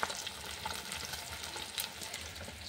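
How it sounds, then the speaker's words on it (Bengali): Soft, steady sizzling of fish frying in hot oil in a pan, with faint crackles throughout. "আর এদিকে দেখো মাছটা ভাজা হচ্ছে"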